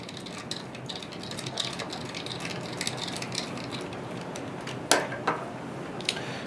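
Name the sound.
screws being driven into Lenovo x220t laptop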